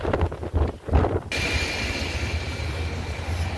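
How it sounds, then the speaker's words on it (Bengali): Strong wind buffets the microphone on the coast near Durdle Door and Bournemouth, a steady roaring rush that swells to full strength after a brief rumbling start and holds for the rest. "অনেক হাওয়া এখানে"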